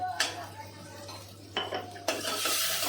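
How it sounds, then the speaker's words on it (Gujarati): Salt and turmeric being stirred into a pot, with a spoon scraping and clinking against the metal in a few distinct bursts over a faint sizzle and a steady low hum. "આપણને હલાવવાનો ઓર્ડર આવી ગયો છે. હલાવી નાખી દીધું."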